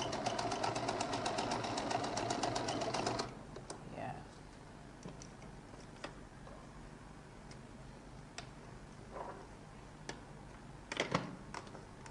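A sewing machine stitches down the seam of a lady's jacket, a rapid steady close-up whir that runs for about three seconds and then stops, followed by quiet handling with a few sharp ticks and small clicks.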